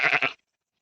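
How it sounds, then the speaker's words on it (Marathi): A sheep in the hills gives one short, close bleat with a wavering, pulsing tone, then goes quiet. "बघा ही मेंढी"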